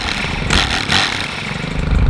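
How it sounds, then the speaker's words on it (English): A STIHL Kombi 131R gas-powered tool runs loud and close while edging a garden bed, its engine buzzing steadily with two brief surges of higher-pitched revving and no talk. "This is the STIHL Kombi 131R."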